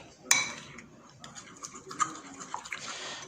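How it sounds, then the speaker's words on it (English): An egg and icing sugar are stirred together in a bowl with a utensil for a tart, giving a sharp initial clink followed by quiet, irregular scraping and tapping. "Crack in the egg, just mix it around."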